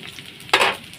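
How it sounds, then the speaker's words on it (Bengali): Fried cauliflower is tipped into a heavy, hot iron wok, setting off a sudden loud sizzling burst halfway through that quickly fades back to a low background hiss. "এখন আমি কপিগুলোও ঢেলে দেবো।"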